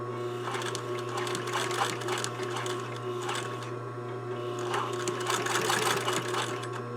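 A sewing machine stitches a blouse collar facing and backstitches off the end, a continuous close mechanical whir with a steady rapid needle rhythm throughout.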